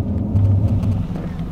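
A car with faulty brakes gives a deep, loud, steady rumble heard from inside while driving, a low thunder-like drone with no talk.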